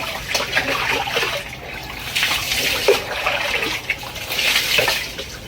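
Water runs and splashes in a bathroom, an uneven close trickle with irregular spatters and surges, no talk.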